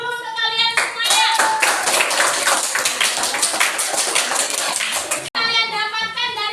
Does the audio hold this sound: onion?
no